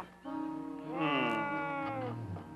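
A bobcat meows in a long, wavering, drawn-out cry that rises and falls, loud and close, with no talking over it.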